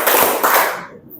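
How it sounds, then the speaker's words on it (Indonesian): Two loud hand claps during a classroom movement exercise, close and sharp, each followed by a brief ringing decay before the sound cuts off. "Tepuk tangan 2 kali."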